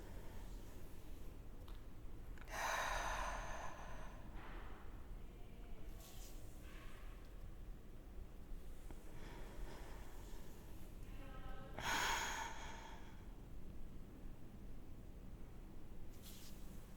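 Two soft, breathy exhalations during a standing hip hinge exercise, each a brief airy whoosh a few seconds long, separated by quiet room tone with faint breath sounds between them.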